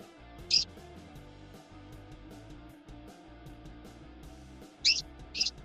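Pet birds in a dark side room give three short, shrill chirps, one early and two close together near the end, over a faint steady indoor hum.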